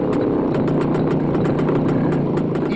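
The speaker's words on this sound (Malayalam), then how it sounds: "ഒരു കാലത്ത് നിരത്തുകൾ അടക്കിവാണ് SD ബൈക്കുകൾ കൂട്ടത്തോടെ നഗരം ചുറ്റാനിറങ്ങി." Yezdi SD motorcycle engine running at a Quilon Yezdi club gathering, a loud, close, steady two-stroke thump with an even rapid beat and no talk.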